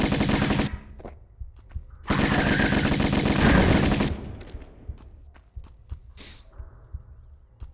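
Rapid automatic gunfire rattles in loud sustained bursts in Tomb Raider Remastered, two long volleys separated by a pause, followed by scattered single shots and clicks fading out.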